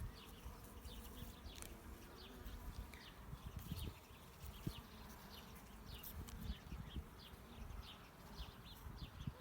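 Honeybees from a strong, fast-growing colony buzz in a continuous faint drone around an open hive, with individual bees passing by now and then and no voices.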